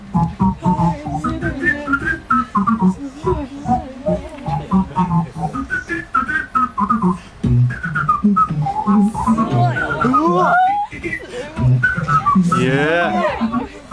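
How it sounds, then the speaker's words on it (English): A man whistles a melody and sings at the same time, the whistled line gliding high above his voiced notes in a fast, busy routine, close and loud throughout. "this guy doing this crazy routine with whistling and singing at the same time"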